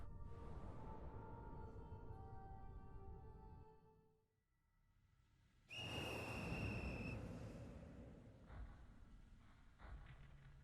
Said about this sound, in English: As the monstrous little raincoat visitor blows his whistle, he steps back into the shadowy darkness.